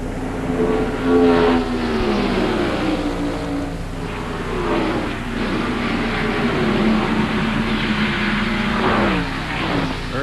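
NASCAR stock cars racing at the 1994 Purolator 500, with a dense engine drone and rising and falling whines as cars sweep past, loud and continuous with no talk.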